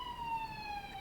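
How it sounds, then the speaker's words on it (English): A city emergency siren wails steadily in the background, a continuous sliding tone carrying over low traffic rumble, moderately distant and alone without talk. "If you're hearing the siren in the background,"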